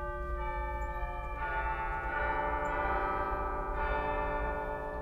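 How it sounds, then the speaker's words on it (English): Chimes stop on an Austin pipe organ at a Baptist church: sustained bell-like tones ring out one after another, overlapping and decaying over a low organ drone. "We've got chimes on here as well."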